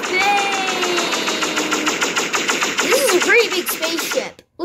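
Weapons fire continuously at a planet in the space game Solar Smash, a loud, dense rattling barrage with tonal whooshes and sweeps layered on top, ending abruptly in near silence.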